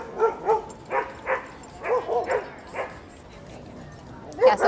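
Several dogs bark and yip in short bursts at a dog park entrance as a bull terrier comes in, the barks fairly close and irregular, with people talking over them.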